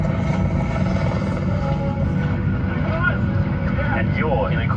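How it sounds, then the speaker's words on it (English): Steady, dense rotor and turbine drone of an Airbus H125 helicopter in flight, heard from inside the cabin as a loud, continuous low rumble with a faint higher whine throughout. "Today, I'm flying on an Airbus H125 helicopter."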